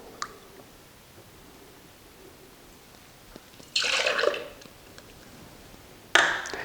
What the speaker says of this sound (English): Go ahead and put our half a cup of milk in our shaker.